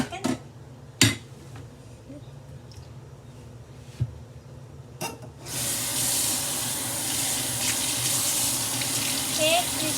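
A few clattering knocks of dishes in a sink, then a tap turns on and water runs steadily and loudly into the basin while the dishes are washed, with voices heard faintly in between.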